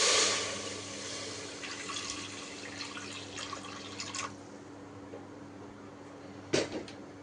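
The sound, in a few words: water poured into pressure cooker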